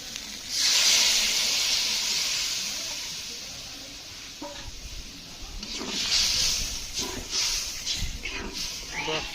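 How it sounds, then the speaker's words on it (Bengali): Coconut milk poured onto hot spice masala for a tilapia fish curry, hissing and sizzling in two loud surges under a person talking. "নারকেলের দুধটা আবার মশলার উপরে ঢেলে দেবো।"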